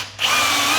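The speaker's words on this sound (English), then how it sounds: "now I'm just gonna put some screws in" A power drill drives screws into a roller blind bracket at the edge of a window reveal, with a steady close whine that rises after a brief quiet start and holds loud to the end.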